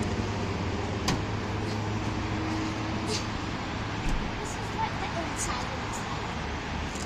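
Steady road traffic rumble with a low engine hum, heard near a truck being fitted with a topper at a truck accessories shop, with a few faint door or latch clicks over the continuous noise.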